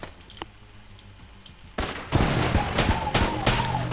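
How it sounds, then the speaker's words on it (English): Gunfire in the game Enter the Gungeon starts with quiet isolated shots, then a dense, loud rapid-fire volley of crackling bursts takes over, punctuated by sharp impacts. "this can shoot through walls"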